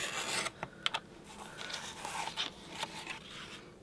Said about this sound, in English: now I'm gonna make sure my blade is all the way down, and I'm going to go ahead and cut that